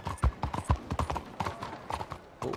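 Horse hooves clop at a walking pace in Red Dead Redemption 2, a close, steady series of dull thuds with an uneven rhythm, heard alone without talk.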